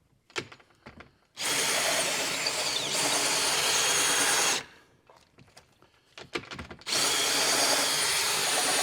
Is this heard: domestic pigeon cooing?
no